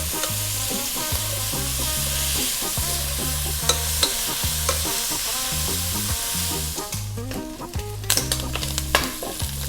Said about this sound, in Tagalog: Gigisahin ko lang sandali.